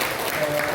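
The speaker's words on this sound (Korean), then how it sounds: "예, 박수하겠습니다." A church congregation claps during an awards presentation at a harvest thanksgiving Sunday service, a short, close burst of dense, continuous applause.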